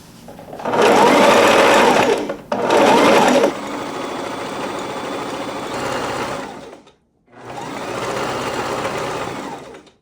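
Sewing machine stitching along the fabric edges of a bow pillow, running loud and close in long continuous bursts with brief pauses between seams.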